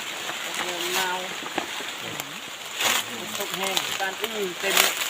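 Rain falls steadily in a forest, a continuous close hiss and patter that runs under people talking throughout.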